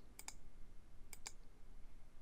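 Mouse clicks on the zoom-in plus button of a 3D calculus plotter, heard as two quick, close double clicks about a second apart, crisp and faint against a quiet background.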